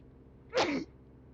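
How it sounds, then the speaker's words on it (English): A single sharp sneeze, close and loud, bursting out briefly against a quiet background. "Sneeze came on, and I do apologise"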